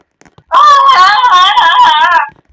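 A character in the Roblox game Murder Mystery 2 lets out a loud, sustained wavering scream lasting nearly two seconds, alone and close.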